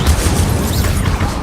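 Incendio fire spell cast in Hogwarts Legacy on PS5, a dense, continuous roaring burst with low booming rumble held steady and loud for its whole short length.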